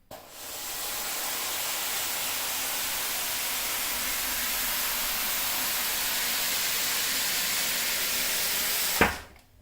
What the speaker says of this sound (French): on va travailler doucement en fait sur la surface et on va envoyer tranquillement la vapeur